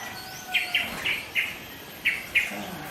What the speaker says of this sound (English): You got company by some nice birds here playing